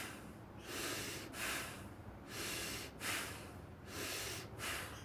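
Deep, slow breaths during a kundalini spinal rotation exercise, with five rhythmic airy inhale and exhale cycles, close and quiet, with no talking.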